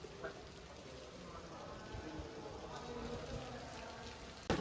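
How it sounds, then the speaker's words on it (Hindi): Heavy rain falls steadily at a railway station in Faisalabad at night, a constant close wash of drumming with a sharper knock at the very end. "बारिश बहुत तेज़ है।"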